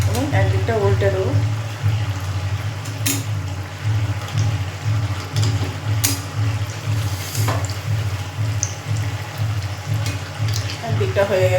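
Fish kebabs cook submerged in hot oil on a low flame, making a continuous, close crackling and bubbling hiss with small pops scattered through it.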